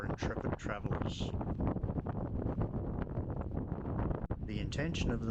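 Strong wind on Sarah Island in Macquarie Harbour buffets the microphone in loud, rumbling gusts, close and continuous, with speech mixed in.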